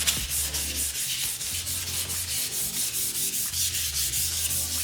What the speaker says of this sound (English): give a gentle scrub all the way around the headlight